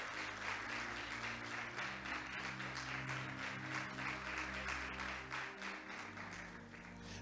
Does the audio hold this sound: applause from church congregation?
yes